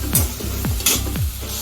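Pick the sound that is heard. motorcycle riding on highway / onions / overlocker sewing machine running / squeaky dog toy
onions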